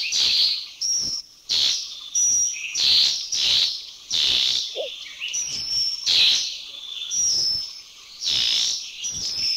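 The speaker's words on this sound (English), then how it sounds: "Number 64, the white-crowned forktail." White-crowned forktail song in Thailand: a series of loud, high, thin whistled notes and chirps repeated in short bursts about every half second, clear and close with no talk.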